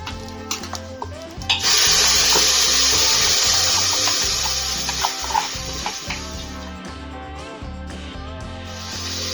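Malvani-style masala paste tipped into garlic already fried reddish in hot oil, giving a loud sudden sizzle that settles into steady frying with spoon scrapes and stirring throughout.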